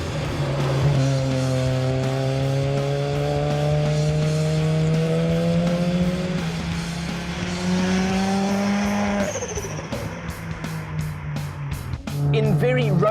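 A tuned rotary-engined car drives and accelerates, its steady high-revving drone climbing in pitch through long pulls, briefly dropping and then rising again, loud and close throughout.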